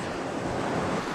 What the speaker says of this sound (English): This is a little waterfall.